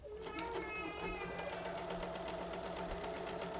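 A sewing machine stitches a side seam on fabric for a small bucket-shaped pouch, running in a fast, steady mechanical whir of rapid needle strokes, close and continuous for the whole stretch with no talking over it.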